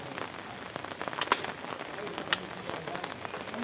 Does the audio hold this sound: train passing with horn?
no